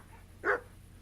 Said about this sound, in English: Dog doesn't actually seem to, like, follow us or anything. It just starts barking.